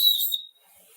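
A whistle built into a survival knife gives one shrill, steady blast lasting under half a second. It stops abruptly and nothing follows it.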